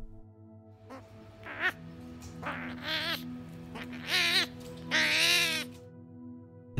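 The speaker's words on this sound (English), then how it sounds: "That's the sound of a screaming, hairy armadillo." A screaming hairy armadillo at a zoo gives a series of shrill, squealing cries that grow longer and stronger, each a second or so apart, over a faint low hum.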